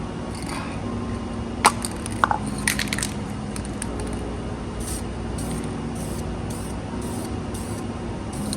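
Spray can laying a first coat of paint onto Akasaka quad exhaust tips for a 2018-2021 car, a steady near hiss running throughout with a few brief clicks and taps early on, no talking.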